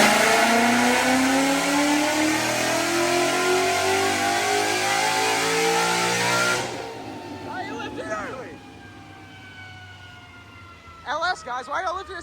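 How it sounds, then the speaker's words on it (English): A VMP-supercharged 2012 Ford Mustang roars at high revs on a dyno for about seven seconds, then cuts off, leaving a lower idle with people talking over the lingering engine noise. "getting strapped up to make 550 wheel horsepower on the dyno on pump gas"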